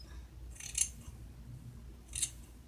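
Scissors snip through hair while trimming bangs, two crisp, close cuts about a second and a half apart, set against quiet room ambience.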